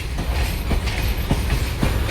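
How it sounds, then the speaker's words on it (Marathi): A train rolls past close by on the railway track at Diva, a loud steady rumble broken by regular clickety-clack wheel beats over the rail joints. "ट्रेन दोन्ही साईडने येतात."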